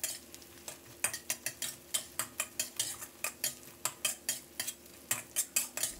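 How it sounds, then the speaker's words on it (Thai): Sliced onion is stir-fried in a salted egg chili sauce, with quick, regular spatula strokes scraping and tapping the pan over a faint sizzle, close by. "ผัดให้หอมหัวใหญ่ของเราสุกสลดนะครับ"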